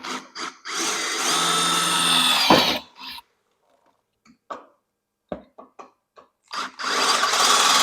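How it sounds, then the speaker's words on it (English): A drill with a dull bit grinds at rivets on an EZ-GO TXT golf cart battery tray, running in a loud, close burst, then stopping for a few quiet seconds of small clicks and knocks before whirring up again. "boy, that sounds like a dull drill bit"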